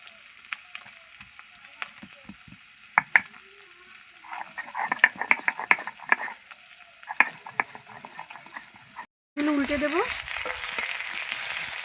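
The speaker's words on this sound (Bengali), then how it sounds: "এই যে মাছগুলো ভাজা হয়ে গেছে" Oil sizzles and crackles steadily as rohu fish fries, with scattered sharp pops, then a sudden louder, hissing surge near the end.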